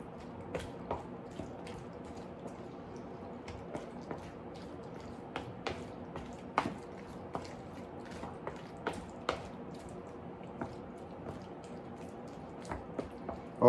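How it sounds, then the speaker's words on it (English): Spoon stirring fava beans with oil in a pot, a soft run of irregular wet clicks and squelches, close but quiet, continuing steadily with no talk. "Okay, so now you want to stir it."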